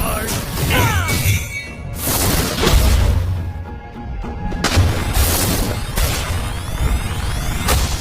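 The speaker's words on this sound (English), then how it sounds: "turret has been destroyed. The enemy has slain the turret." In the Mobile Legends video game, a turret is destroyed amid a busy battle: repeated booms, crashes and whooshing skill effects pile up loudly, while an announcer voice speaks over the action.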